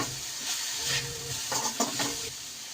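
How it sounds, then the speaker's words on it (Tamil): Chicken and rice are stirred in a pan, giving a soft hiss of frying and a few quick scraping strokes near the end of a short, close, voiceless stretch. "இப்போ இது நல்லா கிண்டி விட்டுக்கலாம்."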